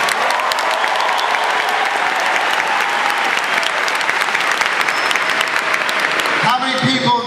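Loud, sustained applause from a large crowd at a Video Games Live concert in New York, steady clapping filling the whole stretch before tapering off near the end.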